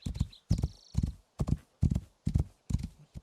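Horse hooves clip-clopping in the video game Rising World, a steady run of seven heavy, evenly spaced hoofbeats close up and loud, with no talk over them.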